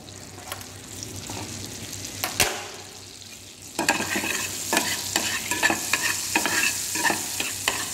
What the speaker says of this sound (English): in the pan, add demerara sugar. And cook it for a while.